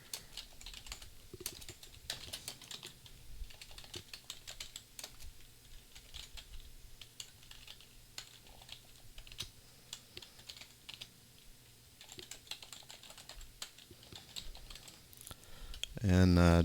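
Commands are typed on a computer keyboard while setting up a web server: a steady run of close, light key clicks for about sixteen seconds, ending in a louder thump.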